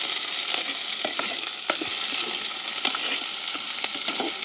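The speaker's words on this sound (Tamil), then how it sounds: "அதோட வெட்டி வச்சிருக்கிற பச்சை மிளகாய், பெரிய வெங்காயம் போடலாம்" Chopped green chillies and big onions sizzle steadily in hot oil in a clay pot, with scattered scraping stirs and pops throughout, close and continuous with no talking.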